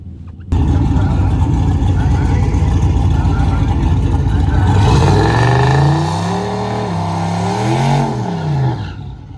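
A drag racing truck launching at a test and tune session at Newport, Arkansas, loud and close, its engine roaring and then climbing through rising, wavering revs as it pulls away. A commentator talks over it.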